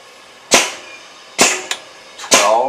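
A repaired boat transom cracking under a hydraulic press load of about 10 tons, giving three sharp, loud snaps with a smaller crack between the last two, each decaying quickly over quiet background.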